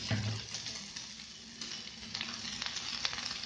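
Onion, tomato and green chilli fry in a pan for a chilli chutney, giving a steady close sizzle with faint crackle throughout and no talking.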